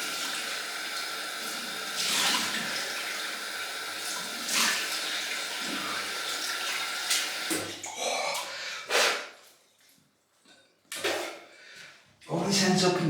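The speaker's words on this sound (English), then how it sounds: "Cold water rinse again." Cold tap water splashed onto the face after a wet shave with Zingari Man shaving soap, close running-water and splashing bursts with gaps, a faucet-like hiss giving way to intermittent wet slaps and handling noises.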